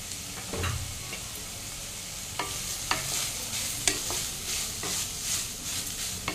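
Rice with garlic is tossed and fried in a pan for tricolour rice, a steady close sizzle broken by periodic scraping knocks of a spatula stirring the grains.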